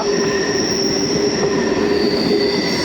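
An Indian Railways passenger train on the Dandeli–Alnavar line rumbles along loudly and steadily, with a sustained metallic wheel squeal ringing over the rolling noise.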